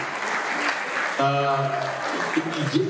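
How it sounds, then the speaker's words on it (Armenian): Wedding guests clap for the parents of both families in a burst of applause, with a voice speaking over the clapping partway through. "ես ուզում եմ երկու կողմերի ծնողներին մի հատ բարձր ծափահարություններ ուղարկել"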